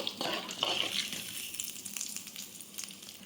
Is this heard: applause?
no